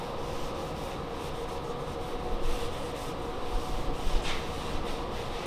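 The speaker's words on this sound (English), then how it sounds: "now I'm applying dark walnut stain over top the dyed wood" Dark walnut stain is rubbed onto a dyed wooden storage cabinet with a cloth, producing a continuous close scrubbing swish with small rhythmic surges and no talking.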